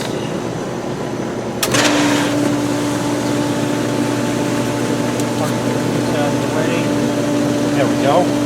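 A pool filter pump runs on its rinse setting, a steady droning hum with a tonal whine that starts abruptly with a click and continues evenly, close by.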